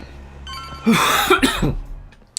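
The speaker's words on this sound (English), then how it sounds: "Sorry I'm coughing so much." A few short, raspy coughs burst out close to the mic in a quick cluster near the middle, then fade back into quiet room noise.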